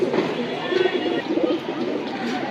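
A male brown-throated pigeon coos in a loft of tournament racing pigeons, low soft rolling coos repeating close by over a steady background hum of other birds.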